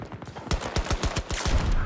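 Rapid gunfire from the shooter Battlefield 2042, a dense run of sharp pistol-like shots fired close and loud, overlapping into a near-continuous volley for about two seconds with no voices.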